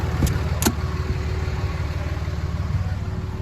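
A Caterpillar 289 diesel in a Peterbilt 359 truck cranking over on a cold start, a steady low rumbling churn with a couple of sharp clicks near the start, close by and without talk.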